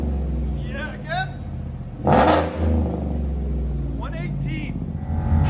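A 2017 Chevy Silverado Z71 with a 5.3L V8, long tube headers and a Vibrant resonator revs hard once in a loud, rumbling burst over its steady exhaust drone, while people talk and react around it.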